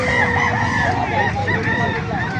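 A rooster crows amid the busy clamor of a chicken market in Calumpit, Bulacan, with other fowl clucking and people talking nearby throughout.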